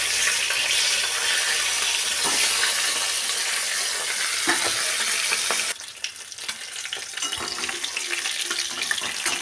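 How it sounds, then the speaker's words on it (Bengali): Steady, dense sizzling of fish frying in hot oil, continuous and fairly loud, easing slightly partway through as the pieces are turned. "আমি একটু একটু করে উল্টে পাল্টে মাছগুলোকে ভেজে নিচ্ছি"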